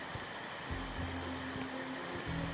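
Steady vacuum cleaner drone in the House Flipper 2 renovation game, a constant whirring hum with a faint low motor pulse, heard alone and unchanging throughout.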